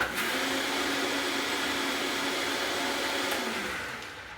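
A blender whizzes cashews into cashew cream, a loud, steady whirring buzz running for about four seconds and then easing off as the motor winds down.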